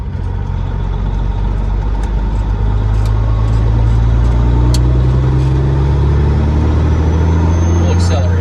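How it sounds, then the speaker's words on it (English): A semi truck's diesel engine pulls away in an owner-operator rig, a loud, steady low rumble filling the cab that rises gradually as it accelerates, with no talking over it. "We'll accelerate out here first because it sounds good."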